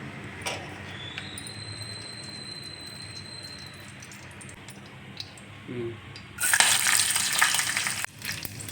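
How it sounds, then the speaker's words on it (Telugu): Dry fruits shallow-frying in melted ghee for a Srikakulam sweet, a soft steady sizzle with a few clicks and a brief louder burst of crackling near the end, close with no talk. "కరిగించుకున్న నెయ్యిలో మన డ్రై ఫ్రూట్స్ అన్నీ వేసేసుకొని కొంచెం నీట్గా, కొంచెం డీప్ ఫ్రై కాకుండా షాలో ఫ్రై చేస్తే చాలా బాగుంటుంది"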